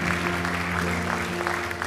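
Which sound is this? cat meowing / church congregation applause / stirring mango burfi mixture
church congregation applause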